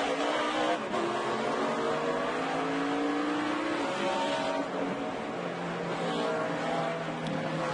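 IndyCar race cars at the 2011 NAPA Auto Parts 200 in Montreal streaming past on the track, a continuous loud engine roar with whining pitch sweeps as several cars go by in succession, no talk.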